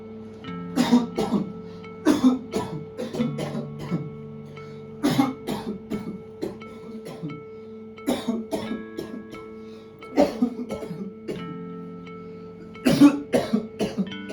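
A person who has had a cough for over a month coughs in repeated harsh fits, clusters of sharp bursts every two to three seconds over a faint steady tonal background.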